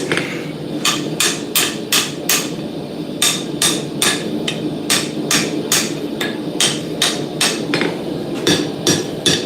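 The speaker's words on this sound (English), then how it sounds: "I'm probably just upsetting the rebar, but it's all right." Repeated hammer blows on rebar being upset while forging a hammer at a smithing anvil, sharp metallic strikes landing in quick bursts of several hits with short pauses, loud and close over a steady background hum.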